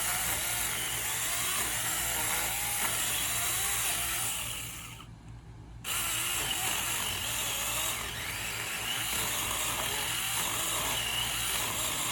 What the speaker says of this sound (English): he's going to use my little mini chainsaw too